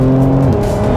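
A 2021 Porsche 911 Carrera 4S pulls hard under acceleration, its engine note a loud, steady drone that shifts pitch midway as revs change, heard close with no talking.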